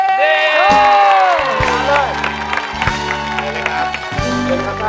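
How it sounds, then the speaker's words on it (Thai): A studio audience claps, cheers and whoops to welcome a comedian onto a Thai comedy talk show, loud and lively over music with a host's voice on top. "ปรบมือดังๆ ต้อนรับกับพี่ชูศรีเชิญเย้"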